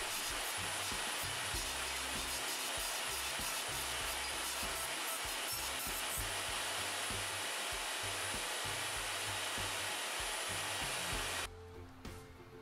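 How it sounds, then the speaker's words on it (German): A Bosch GTS 10 XC table saw cutting wooden boards runs as a loud, steady whining roar with changing load tones as the blade bites the wood, stopping abruptly near the end. "Jetzt säge ich an jedem Brett nach und nach das überschüssige Holz weg."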